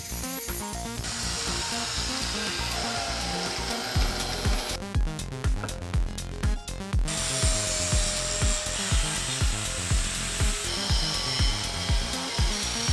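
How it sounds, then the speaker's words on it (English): Power tool cutting material during a Tesla/Tatra monster truck build, a steady loud grinding whine with a sharper, brighter burst midway and rhythmic pulsing strokes throughout. "We'll cut off a little bit of the material here and on another side and also modify the back"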